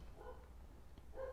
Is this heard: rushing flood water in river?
no